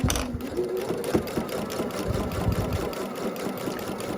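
Sewing machine stitching fabric pieces for flying geese quilt blocks, a steady, rapid mechanical chatter running continuously at moderate level close by, with no talking.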